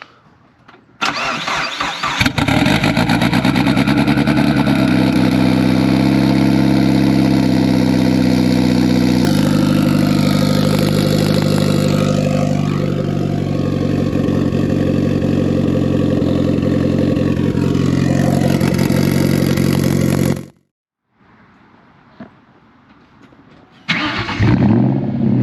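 Mitsubishi Evo cold start, a cranking engine catching into a loud high idle that steadily settles lower, close and continuous for about twenty seconds before cutting off.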